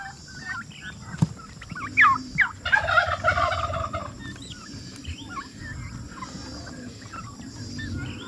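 Turkeys on a farm gobble in several bursts, loud and close, with a rattling call near the middle and quieter calls trailing off, over steady farmyard background noise.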